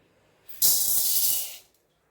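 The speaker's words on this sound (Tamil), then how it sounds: "வடசட்டி சூடாயிட்டுங்க. கடலைப்பருப்பு போட்டு," Chana dal hitting a hot kadai on the stove sends up a sudden, loud, close hiss of sizzling that holds steady for about a second before cutting off quickly.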